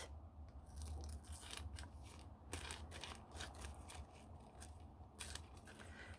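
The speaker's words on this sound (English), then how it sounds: "I'm cutting along that crease." Scissors snip through scrap paper along a folded crease for a junk-journal masterboard, a series of quiet, close crisp cuts and crunches in a steady rhythm with no talking.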